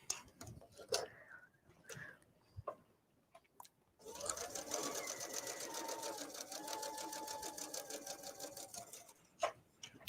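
A sewing machine stitching a mesh laundry bag: a few short clicks and taps at first, then a long steady run of rapid, evenly pulsing needle strokes, close and fairly loud, ending with a brief clunk.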